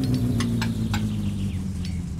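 Car engine in the driving game My Summer Car running with a fault, a low steady hum and rumble broken by several sharp metallic clicks or knocks at irregular intervals.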